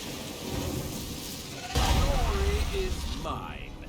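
A rain spell cast in the video game Divinity Original Sin 2 brings a sudden rumbling thunder crash and a steady rain hiss, with some soft tonal effects rising over the storm.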